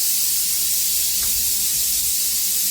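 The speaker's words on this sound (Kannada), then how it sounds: "ಆ ಮಸಾಲೆನ ಇದಕ್ಕೆ ಹಾಕ್ಕೊಂಡು ಅದು ಹಸಿ ವಾಸನೆ ಹೋಗೋವರೆಗೂ ಚೆನ್ನಾಗಿ ಫ್ರೈ ಮಾಡಬೇಕು" Masala frying in a pan, a steady close hiss and sizzle that stays even throughout, with no voices over it.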